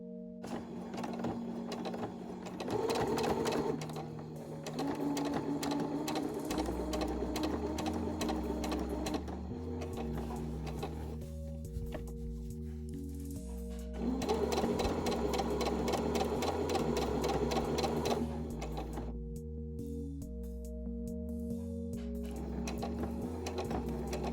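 A sewing machine top stitching the lining of a fabric face mask, a continuous close mechanical whirring hum with a rapid needle patter, briefly slowing and rising again in loudness, no talking.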